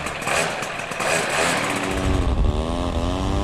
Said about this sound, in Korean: 바로 모터 패러글라이더인데요.